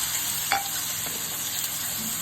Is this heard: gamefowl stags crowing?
no